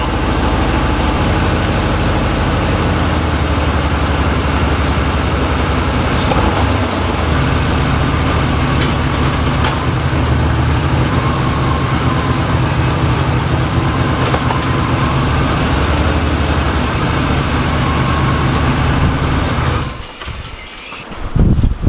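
A tuned port injection V8, LB9/L98 type, idles steadily and loudly with a constant low rumble and cooling fan running, idle sitting slightly high, with no talk until the sound dips and shifts near the end.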